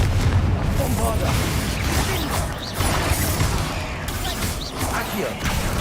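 A Bombarda spell blast in the video game Hogwarts Legacy, with booming bursts and crashing impacts over a dense, busy wash of combat noise.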